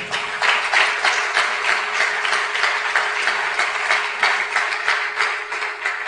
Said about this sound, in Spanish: Den un aplauso fuerte a Él.